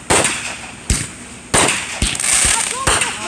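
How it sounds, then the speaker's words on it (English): A Fourth of July fireworks finale box firing, with a rapid run of sharp, loud bangs and crackles in uneven bursts, close by and echoing, while excited voices call out between shots. "That's a finale box right there."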